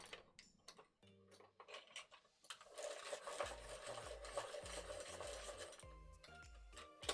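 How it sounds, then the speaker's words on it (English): Coloring pencils being sharpened in a handheld sharpener, a series of close, dry rasping grinds with short pauses between turns, each pencil giving a few scraping strokes. "give these a quick sharpen"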